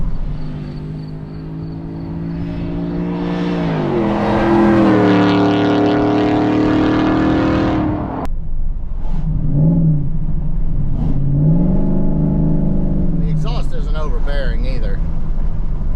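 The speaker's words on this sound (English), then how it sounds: "It's got a really good, aggressive, mellow tone to it." A supercharged VMP Ford F-150 pickup engine revs loud and close, a long rising surge of power holding for several seconds before dropping, followed by two shorter blips, with a voice talking over the end.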